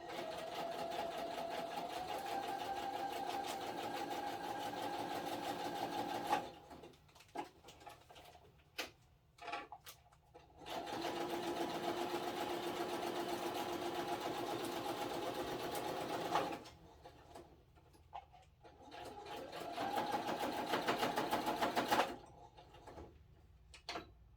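A sewing machine stitching a paper bag journal, running in long steady whirring bursts separated by pauses with scattered clicks as the work is turned, close and clear, no talking.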